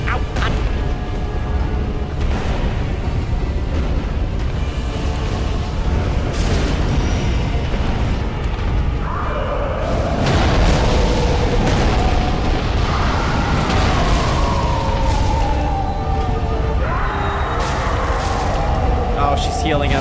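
Dragon fire blasts roar in bursts in Dark Souls III, loud booming eruptions and rushing flame that repeat across the stretch, with a voice talking over them at times.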